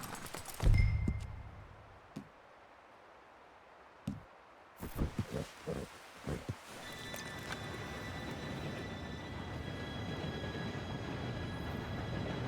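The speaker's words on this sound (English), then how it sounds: "Train should be here any minute now." A train drawing near in Red Dead Redemption 2: a quiet start with a few sharp knocks, then a low rumble that builds and holds steady with a faint whistle-like tone.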